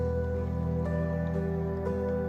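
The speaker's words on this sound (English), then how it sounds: "the rain has started to come down a little harder." Steady rain patters on a nearby surface on the Manistee River beneath a continuous low droning hum, the sound holding even and fairly loud throughout with no voices.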